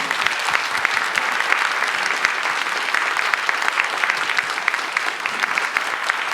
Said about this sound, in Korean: 큰 박수로 여러분 환영하겠습니다.